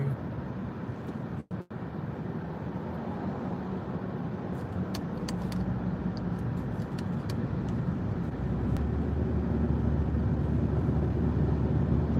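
Steady car driving noise in slowing traffic, a continuous broad rumble with light wind buffeting, heard from inside the vehicle with a brief dropout near the start and no talking.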